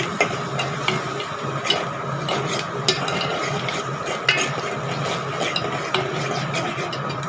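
Green chilies fry and get stirred in a pan, with steady scraping and light sizzling plus periodic sharper utensil clicks against the pan, close and continuous with no talk.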